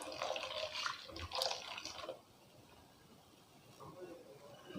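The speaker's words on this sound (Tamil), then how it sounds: "அதே மிக்ஸி ஜாரில் தண்ணி சேர்த்துக்கிட்டேன்." Water is poured into a mixer grinder jar that still holds ground coconut, for a crab curry. It makes a soft, faint splashing pour for about two seconds and then goes quiet.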